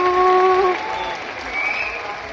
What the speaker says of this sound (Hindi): एक बार जोरदार तालियां, जो आपका प्यार मिल रहा है